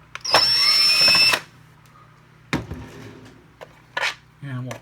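Screws being backed out of the headlight on a Kenmore PowerMate vacuum: a loud whir of a power screwdriver running for about a second, then a few short clicks and clatters of small parts, with a voice speaking briefly near the end.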